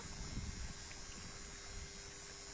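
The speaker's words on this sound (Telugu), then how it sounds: "అది బావి మోటార్ అంటారు" A faint, steady well water pump motor hum drones on without a break beside a paddy field, with low rumbling noise and no voices.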